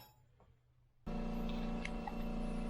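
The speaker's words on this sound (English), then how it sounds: "sorry about the compressor noise" An air compressor kicks on about a second in, a steady loud mechanical drone with a constant hum that runs without pause, replacing the quiet workshop background of the garage.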